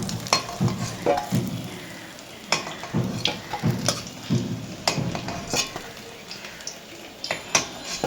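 Fritters frying in hot oil in a pan for a cauliflower and prawn-paste curry, a steady close sizzle broken by repeated scrapes and clinks of a spatula turning and lifting them, with no talk.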